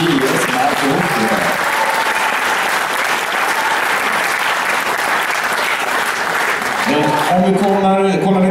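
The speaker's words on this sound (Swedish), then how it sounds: "Han kan väl få applåder" An audience at a speedway team kick-off applauds, loud sustained clapping that fills the space, with a voice speaking over it at the start and end.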